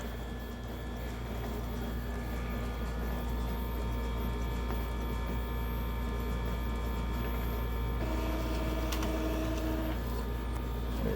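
An Epson L3210 inkjet printer running a print job, making a steady mechanical whir and hum with faint ticking and a brief higher whine near the end, heard close and without speech.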